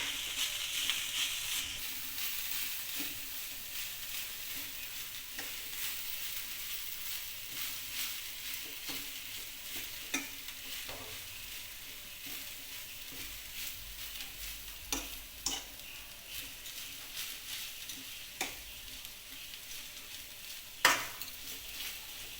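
Schezwan fried rice being stirred in a hot pan, with a low steady sizzle and repeated scraping and clinks of a spoon against the pan at an uneven rhythm, close and fairly quiet.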